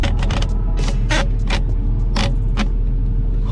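A truck engine rumbles steadily while the driver shifts down through the gears. Loud low-end throb runs throughout, with sharp mechanical clunks and rattles from the gear changes and cab, all close-up.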